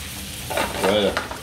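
Rump steak pieces sear in a hot pan, a steady close sizzle with stirring and scraping bursts as the sides are browned, no talking over it.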